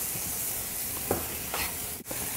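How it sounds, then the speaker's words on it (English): Onions and garlic sizzle in a big, hot paella pan, a faint steady crackle with a few brief stirring scrapes and a short clatter near the end, no talking. "Hear the great sizzle."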